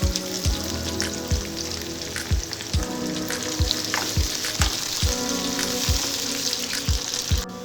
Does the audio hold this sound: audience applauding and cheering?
no